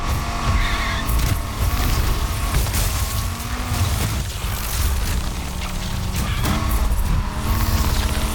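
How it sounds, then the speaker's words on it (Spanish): A Dodge Viper in the racing game NFS Unbound drifts with engine roar and tire squeal, a loud, continuous mix of rumbling exhaust and skidding that swells and fades in waves, with no speech. "Como que se entierra un poco el Viper en el derrape"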